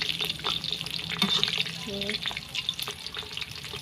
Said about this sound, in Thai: เราใช้เวลาทอดเนี่ยไม่กี่นาทีเองนะคะ